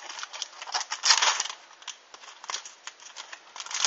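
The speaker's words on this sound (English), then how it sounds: "These packs rip like this all the time." Plasma Storm booster pack wrappers from a Pokemon trading card Elite Trainer Box being torn open, a run of close, crisp crinkling rips and tears lasting several seconds with no talk over it.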